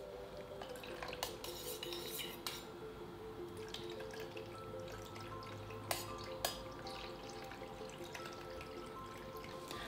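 Homemade cleaning spray being stirred as vinegar is added, light clinking and dripping liquid sounds over a quiet background, with a few sharp taps.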